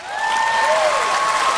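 Studio audience applause at a televised singing competition, a steady wash of clapping that fills the whole moment, with a few thin whistle-like tones sliding over it.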